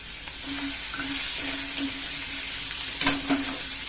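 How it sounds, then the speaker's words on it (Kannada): Steady sizzling of boiled green peas and capsicum frying in a pan, with intermittent scraping and clinks of a spoon stirring, a brief louder clatter near the end. "ಚೆನ್ನಾಗಿ ಫ್ರೈ ಮಾಡ್ತೀನಿ"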